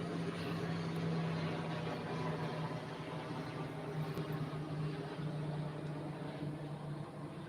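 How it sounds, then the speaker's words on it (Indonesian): A passing airplane drones steadily over open outdoor ambience on a morning walk, a broad engine rumble with a sustained low hum holding at even loudness throughout, with no voices. "ada lagi pesawat tuh, pesawat non-stop di sini mah"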